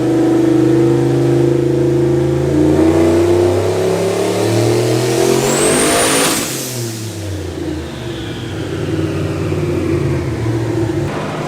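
A single-turbo, stock Hemi engine in an OBS truck, around 850 horsepower, revs hard in a loud, sustained roar. The pitch climbs with a turbo whistle, then drops as the truck passes and pulls away.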